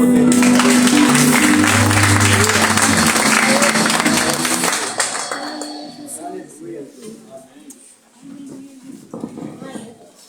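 A church congregation applauds during a worship service, loud dense clapping mixed with cheering that fades after about five seconds, leaving quieter murmuring voices and scattered sounds.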